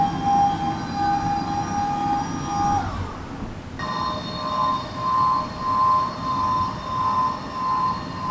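A Flexispot E6 standing desk motor drives the desk with a smooth, steady electric hum and whine that briefly dips and shifts pitch midway, then continues with a gently pulsing tone, with no speech.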